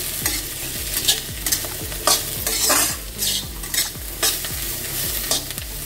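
Shallots, tamarind and pirandai (adamant creeper) sautéed in a pan for pirandai dosa, with steady sizzling and repeated scraping stir strokes roughly every half second, close and fairly loud, no voices.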